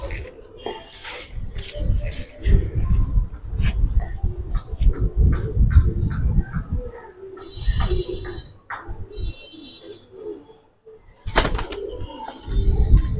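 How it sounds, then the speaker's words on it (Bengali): Silver Gribaz pigeons coo and flap their wings close by in uneven bursts, with louder flutters breaking in among the calls and some voices talking. "এটাও সিলভার ছড়াই কবুতর।"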